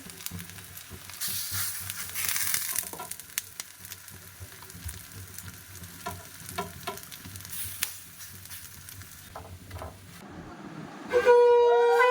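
Pumpkin flower fritters frying in a hot wok, a steady close sizzle with occasional crackles and stirring clinks, followed near the end by a loud burst of singing or chanting.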